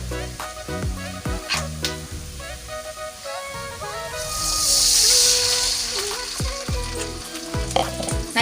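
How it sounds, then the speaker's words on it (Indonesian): Water poured into a pan of softened sautéed onions, loud sizzling and stirring clatter, then a rising steamy hiss that swells midway and fades back into stirring and pan knocks, close by. "Ini mau aku kasih air ya, kita kasih air dulu."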